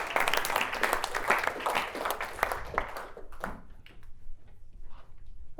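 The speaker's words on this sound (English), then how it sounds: "let's give a round of applause" Applause from a workshop audience after a group presents its face-mask idea, a dense burst of clapping for about three seconds that then thins to a few scattered claps.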